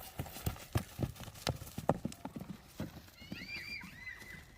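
A horse walks with clip-clopping hooves in a steady irregular rhythm, then gives a clear whinny near the end; the horse is suited to large gatherings, and no one speaks.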